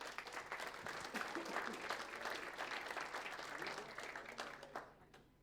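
Audience applause at a Lithuanian sports journalists' federation awards ceremony, a dense continuous clatter of many clapping hands at moderate distance that holds steady, then fades out near the end.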